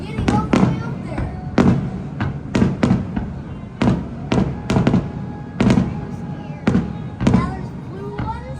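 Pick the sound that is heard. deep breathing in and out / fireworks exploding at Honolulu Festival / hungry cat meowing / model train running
fireworks exploding at Honolulu Festival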